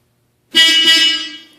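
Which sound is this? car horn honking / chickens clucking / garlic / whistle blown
car horn honking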